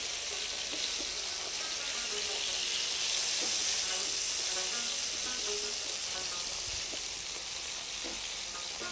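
Fish sizzles loudly and continuously in a hot pan, a dense even hiss with crackle that fills the whole stretch, heard close up without any talk.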